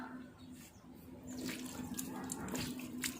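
Water runs and splashes onto a whetstone being soaked for sharpening a hook-shaped knife, a steady trickling pour with a faint low hum underneath, growing slightly louder partway through.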